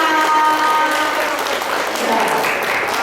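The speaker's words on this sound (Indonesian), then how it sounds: "Tepuk tangan untuk kita semuanya." At an integrity commitment gathering in a Novotel hall, a group applauds in a steady wash of clapping while a voice and some tonal sound ring through at the start.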